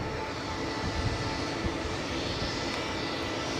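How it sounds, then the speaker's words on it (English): Aircraft engine noise at Edinburgh airport, a steady, loud broadband roar that holds without a break and with no voices over it. "The engine noise is overpowering."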